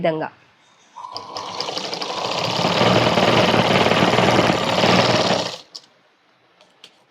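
A sewing machine stitches baby frock fabric in one continuous run of about four and a half seconds, loud and close, with a voice speaking briefly before and after it.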